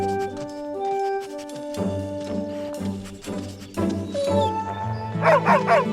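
A dog barks and yips in a cartoon scene, with short repeated barks near the end over background music and sound effects.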